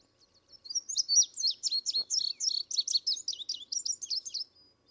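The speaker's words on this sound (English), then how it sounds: "And now you hear the paired notes of the indigo bunting." An indigo bunting song plays back as a recording: a bright, rapid run of high paired notes lasting about four seconds, clear and alone against silence.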